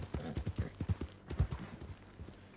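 Horse hooves clip-clop in the video game Red Dead Online, a steady, quiet trot of repeated low beats with faint talk in the background.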